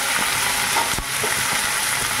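Chicken, washed with vinegar-soured water, is added to a hot pan of spices and fries with a loud, continuous close sizzle, with a sharp clatter midway.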